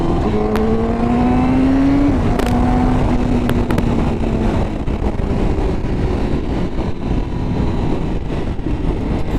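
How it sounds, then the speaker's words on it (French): A Honda CBR1000RR-R superbike fitted with an Akrapovič exhaust roars continuously at high revs, a loud, close engine note with a rising whine early on and a sustained dense drone throughout, no voices. "Le son est juste dingue avec son écapement Accra à l'arrière, c'est incroyable."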